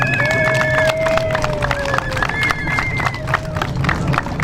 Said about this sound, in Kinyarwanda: ubwo nagira ngo mubampera amashyi mubashimire ko baje kudufasha